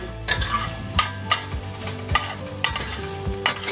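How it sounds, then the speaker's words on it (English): Garlic sautéing in a pan over turned-down heat for a vegan quinoa enchilada dish: a steady close sizzle with repeated scraping and stirring strokes, no voices. "just continue to saute that around a little bit"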